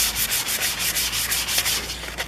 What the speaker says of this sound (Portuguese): Não vou lixar para tirar o vermelho todo não, porque eu só tenho essa lixa fina.